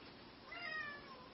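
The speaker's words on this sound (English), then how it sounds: "Excuse my cat." A house cat lets out a single faint meow, a short wavering call rising and falling over about half a second, alone against a low steady room hiss.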